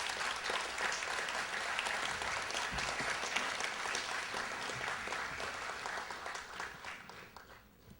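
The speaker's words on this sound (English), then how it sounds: "How about a big round of applause?" At a city awards recognition event, a seated audience claps in a dense, even round of applause that holds steady for several seconds before fading out.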